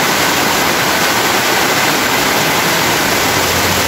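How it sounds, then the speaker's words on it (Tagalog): Steady, loud rushing of water flowing continuously through a large drainage canal, a dense even roar with no pauses. "Tubig sa kanal."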